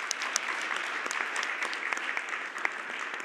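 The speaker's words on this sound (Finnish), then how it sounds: "Aplodit Matille" Audience applause at an event on EU programmes, steady and moderately distant clapping with crisp individual claps standing out, sustained throughout with no talk.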